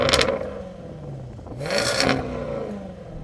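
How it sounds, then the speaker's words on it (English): The engine of a Jaguar Project 8 revs in two short bursts, its pitch climbing and falling back each time, moderately loud with no talk over it. "This Jaguar engine is just"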